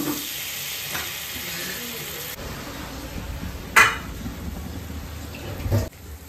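Spices are sautéed and stirred in a pan with chili, a low crackling sizzle running throughout, with occasional spatula knocks and one louder scrape partway through.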